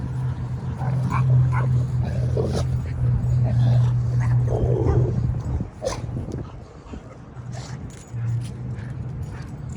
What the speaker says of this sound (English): And the other one was barking too.